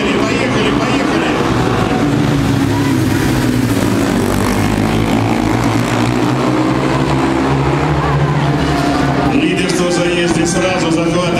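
Ice speedway motorcycles roar off the start at a championship race in Tolyatti, a dense, loud, continuous engine blare that holds steady throughout, with a commentator talking over it.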